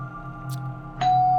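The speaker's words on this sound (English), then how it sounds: "as the person rang my doorbell" A doorbell chime at a house porch sounds once, a clear tone ringing out and sustaining over a low steady hum, loud and close with no one talking.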